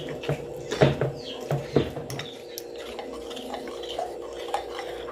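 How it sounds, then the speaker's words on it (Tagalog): A spoon stirs vegetable okoy fritter batter in a bowl, with a few sharp clinks and scrapes against the bowl early on, then softer, sparser taps against a quiet background. "Haluin ko muna."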